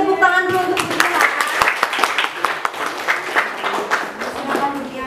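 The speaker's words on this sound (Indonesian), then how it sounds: "Beri tepuk tangan dulu untuk Bu Jihan" Classroom of students applauding, a lively burst of many hands clapping close by, mixed with a voice speaking at the start and end.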